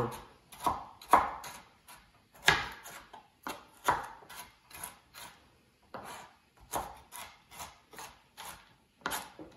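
Carrots chopped with a knife on a wooden cutting board in a home kitchen, a steady run of close, crisp thuds about two per second, some pieces bouncing off the board.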